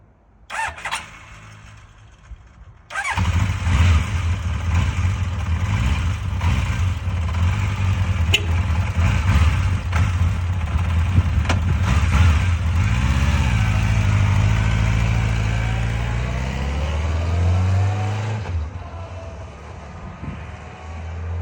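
A restored 1981 Honda CB900 F2 Bol d'Or motorcycle with a rebuilt engine is started after a brief crank, then idles loudly and close with a few throttle blips and revs before settling back down.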